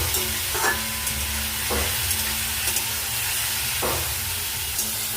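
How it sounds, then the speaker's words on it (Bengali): Sattu flour frying in a pan over fried potato, a steady close sizzle with a faint hum and occasional scraping stirs, with no voices. "এর উপর ছাতুগুলো আমি দিয়ে ভেজে নেব।"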